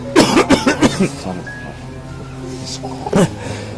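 A quick run of several hoarse coughs close by, then a pause and one more cough, with low background murmur.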